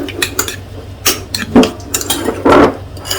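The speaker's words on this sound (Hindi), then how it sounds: "ये क्यूकम्बर जो है वो ग्रेट हो गई है। अब इनको मिक्स कर लें।" Grated cucumber being mixed in a bowl, with a spoon clinking and scraping against the dish in irregular, close strokes.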